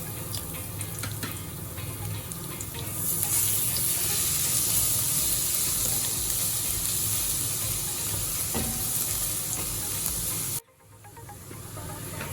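Garlic sautéing in hot oil in a pan, a steady bright hiss and sizzle that swells after a few seconds and holds, then cuts off abruptly near the end, leaving a quieter background.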